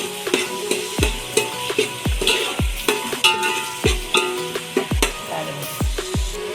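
Onions frying with asafoetida in a pan give a constant close sizzle, punctuated by a regular series of sharp spatula knocks against the pan roughly every half second, with no voices.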